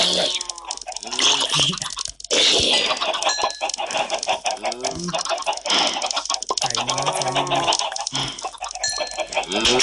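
Baby chickens in the Minecraft video game cluck in a dense, continuous stream of short bird calls. They sound loud and close, and a voice talks over them at times.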